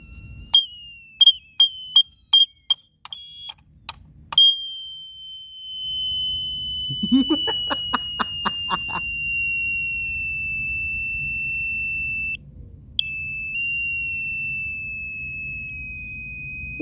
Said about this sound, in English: The fire alarm's still going.